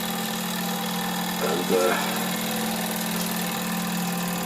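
A Wilesco D455 toy steam engine, freshly repaired, runs slowly with a steady low hum and a faint rhythmic chuffing, while someone speaks briefly midway.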